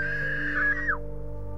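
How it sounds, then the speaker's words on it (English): A woman's high, sustained scream carries from a distance, holding steady for about a second before sliding down and cutting off, over a low steady hum with no talking. "That was a woman's scream."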